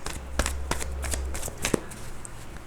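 A deck of tarot cards is shuffled close by, with soft riffling bursts and sharp flicks of card edges against quiet room tone, and no talking.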